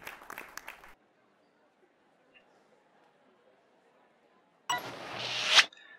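Applause at an event in the game Youtubers Life, a short burst of clapping and crowd noise near the end, after a brief clatter at the start and a long near-silent gap.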